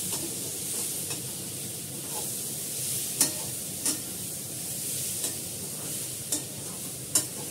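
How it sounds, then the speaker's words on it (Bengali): Mung dal being stirred and fried in a pan gives a steady soft sizzle, broken by a few sharp scrapes of the spoon against the pan. "মুগ ডালটা দেওয়ার পর একটু কষাবো, আর একটু কষিয়ে নেবো 5-7 মিনিট।"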